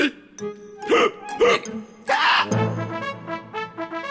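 Hiccups from a character in an animated zombie cartoon for children, several sharp voiced hiccups in quick succession, mixed with brief vocal sounds and a soft melodic background.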